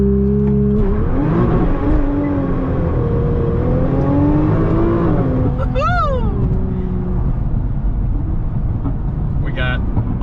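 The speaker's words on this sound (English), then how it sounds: "That one just spun them, all four tires." A 2021 Nissan GT-R accelerating hard and spinning all four tires, engine note climbing in pitch then settling, with brief chirps and a voice talking over the steady engine drone.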